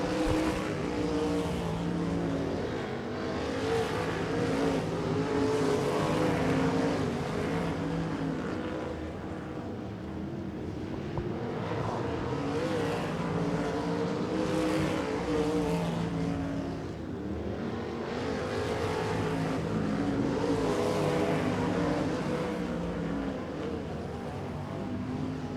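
Sprint cars racing in an A feature at Tulsa Speedway, a steady roar of multiple engines droning and surging in waves around the dirt oval, continuous and fairly loud throughout with no talk.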